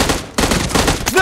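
Gunfire in a video game crackles in a dense, rapid burst that runs through the whole brief moment, loud and close.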